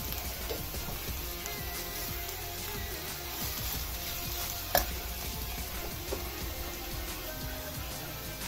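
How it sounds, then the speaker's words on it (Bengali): Grated bottle gourd fries in ghee for a Bangladeshi lau payesh, a soft steady sizzle with scraping stirs and the occasional clink of a spoon, no voices. "সেই জন্য ঘিয়ের ওপরে ভাজতে হয়।"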